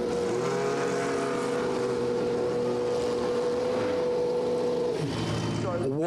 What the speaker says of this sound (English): I'm just going to let you hear these cars for a second.